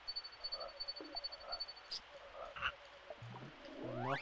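A frog enemy croaks in the swamp area of the Secret of Evermore video game: a string of short, rhythmic croaking blips over game ambience, ending in rising electronic sweeps.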